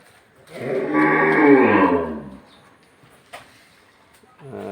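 A cow lowing inside a cattle fattening farm shed, one long, loud, drawn-out moo up close, followed by quieter shed noise and the start of another low call.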